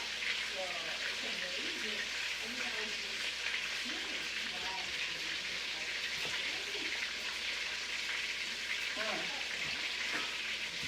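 Chicken skin sears in an enameled cast iron Dutch oven, giving a dense, constant crackling sizzle throughout, with a voice murmuring faintly beneath it.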